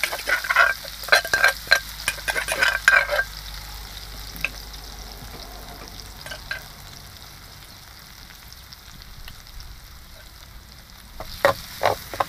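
Garlic frying in a pan for a Isan-style dish, with an early burst of crackling sizzle and stirring clatter in the first few seconds, settling into a softer steady sizzle before a brief stir near the end.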